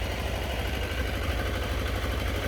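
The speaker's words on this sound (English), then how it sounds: "It's idling okay." A long-unused Trophy engine idles steadily with a low, even rumble and rhythmic chug, choke off, holding constant throughout with no changes in speed.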